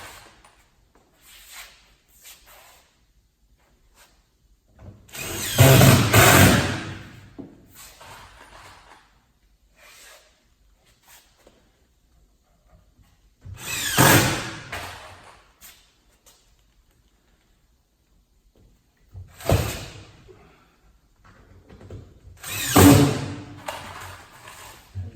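A power driver sinking drywall screws into a wooden shipping crate for industrial furniture: four separate bursts of whirring, each a couple of seconds long, with quiet handling noises in between.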